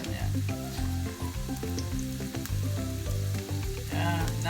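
Onion frying in a pan for sizzling octopus, a steady close sizzle with occasional stirring clatter, a few soft voices underneath.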